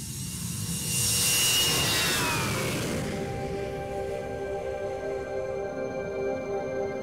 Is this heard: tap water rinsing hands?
no